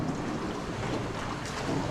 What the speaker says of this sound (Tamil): இந்த இடம் ஃபுல்லாக மழை பெஞ்சிட்ருக்கு